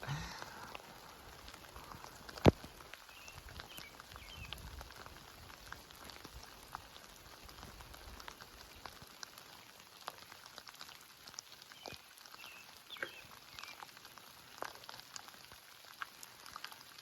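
Light rain patters steadily and softly on a mountain trail on the Appalachian Trail, a faint continuous hiss with scattered drop ticks and one brief sharp click early on.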